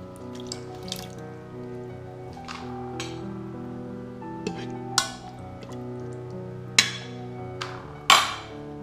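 Browned meat is dropped into the inner pot of a first-generation Yedi electric pressure cooker, making a few soft thuds and clatters against steady background music.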